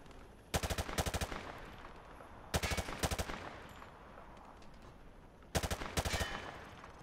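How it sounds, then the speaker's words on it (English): A rifle fired from the hip at range targets in Call of Duty: Modern Warfare 2 Remastered, with three loud sprays of rapid automatic shots, each about a second long, separated by quiet gaps. "Grab that weapon off the table and fire at the targets behind you."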